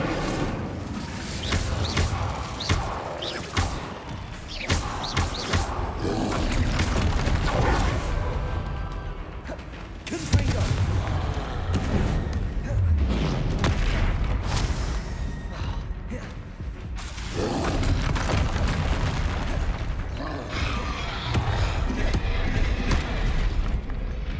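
Spell blasts from Confringo and Incendio crackle and boom in Hogwarts Legacy, loud and repeated in a busy, continuous battle mix with crashes and rumbling impacts.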